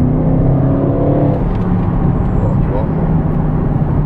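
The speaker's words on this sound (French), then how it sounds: "Là on a l'échappement qui est ouvert, donc on a une sonorité qui est quand même très sympa à l'échappement de la voiture" Audi RS6 with its exhaust valves open, a loud, steady engine roar and whir from inside the car, sustained throughout with a voice faintly present under the drone.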